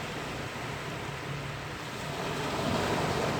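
Steady broadband roar of sea surf washing continuously onto a beach near Ko Samet, Rayong, Thailand, swelling slightly toward the end, with no voices.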